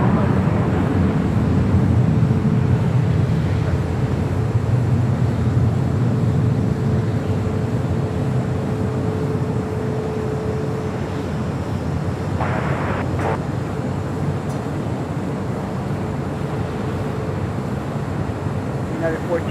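A jet taking off from the north side runway at LAX rumbles continuously in the distance, a broad low roar that stays steady with light wind buffeting and no voices present.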